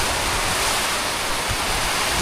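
Heavy rain pours onto a rooftop, a dense, steady, loud hiss with no breaks and nothing else standing out.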